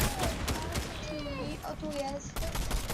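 Gunfire in a Halo ranked match, including a DMR rifle, with rapid bursts of shots and weapon effects crackling steadily under game noise through the whole stretch, with a louder flurry near the end.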